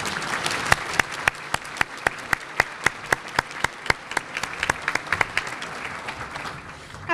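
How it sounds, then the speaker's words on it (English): An audience at a city's State of the City address breaks into applause, a dense spread of clapping with a few sharp nearby claps standing out, continuing steadily for several seconds before fading. "So let's please give her a round of applause."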